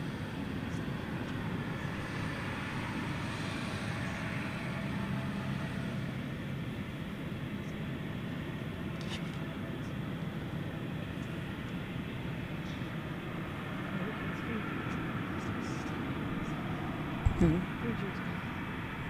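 An airliner takes off from runway 18 left at DFW airport at night, a steady low engine roar rumbling at a distance throughout, with a brief loud thump near the end.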